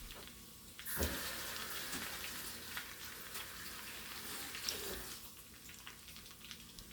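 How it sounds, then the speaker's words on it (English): Hands being washed under a running kitchen tap, a steady close hiss of flowing water with splashy bursts as the hands move through the stream, no talk. "I'm just gonna wash my hands."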